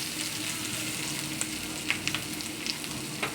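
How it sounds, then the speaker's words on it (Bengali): Onion and green chilli frying with panch phoron spices in hot oil, a steady close sizzle with a few light pops and spatula taps over the top. "একটু পাঁচফোড়নগুলো ভাজা ভাজা হয়ে গেলে আমি অ্যাড করছি পেঁয়াজ আর কাঁচা লঙ্কা।"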